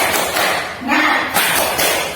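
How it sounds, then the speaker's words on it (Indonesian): Schoolchildren doing a rhythmic group clapping cheer in a classroom, a few patterned bursts of claps with voices chanting along between them. "coba kita melakukan tepuk semangat dulu secara bersama-sama ya"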